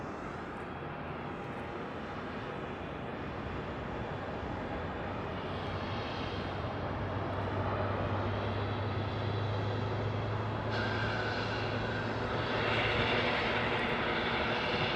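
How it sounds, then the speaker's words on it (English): A UPS Boeing 767 at Phoenix airport rumbles with a broad, steady jet roar that swells slightly as it goes, continuous and fairly close, with no voices over it. "We have a UPS 767, most likely going south."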